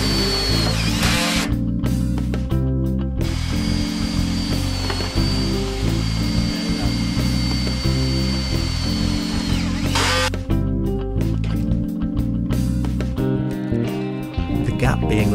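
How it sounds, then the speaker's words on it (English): Power drill driving self-drilling bolts into conservatory wall sections on a base, a loud continuous whir with short pauses and restarts, backed by steady background music throughout. "The wall sections are fitted to the base using self-drilling bolts."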